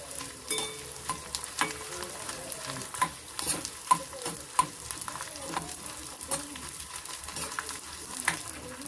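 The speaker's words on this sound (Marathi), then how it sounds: "आता याच्यात डिंक घालायचं आपल्याला आणि तूप छान फुलवून घ्यायचं आपल्याला." Edible gum (dink) fries in hot ghee over a low flame, a continuous soft sizzle broken by frequent stirring scrapes and small pops from the pan, close and unaccompanied by talk.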